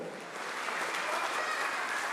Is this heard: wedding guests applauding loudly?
yes